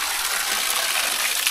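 Hot spring water flowing along a hiking trail in Nepal, a steady close rushing gush that runs continuously and evenly throughout.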